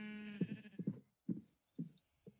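Sheep in Minecraft bleat in a series of short, evenly spaced baas, about six calls in quick succession, close and clear with nothing else around them.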